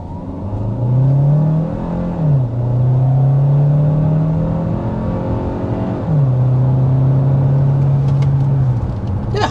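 A 2024 Hyundai Santa Fe Hybrid with a 1.6L turbo engine and electric motor, 232 horsepower combined, accelerates hard. Its loud, steady engine drone climbs in pitch, then drops briefly at two gear shifts before climbing again.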